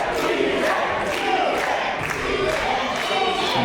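Wrestling crowd at a PWR Pro show cheers and roars continuously, a dense, loud wall of voices with rhythmic bursts of shouting throughout.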